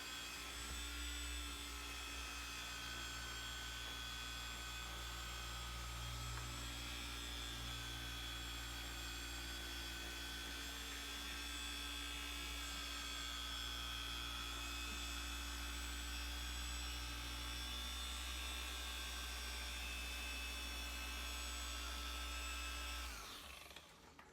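A long-throw polisher hums steadily between its third and fourth speed settings as it works over swirled Mercedes paint, a continuous close whine held with light pressure for about twenty-four seconds before cutting off at the end.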